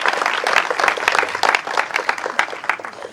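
An event audience gives a burst of brisk, dense applause, with many hands clapping loudly and steadily throughout and a slight swell and dip in intensity.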